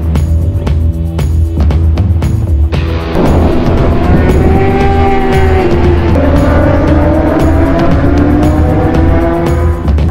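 Motorcycles at the Bol d'Or endurance race, resuming at dawn: loud, continuous engine roar with rising and falling whines as bikes accelerate and pass, one climbing pitch after another, with no talk.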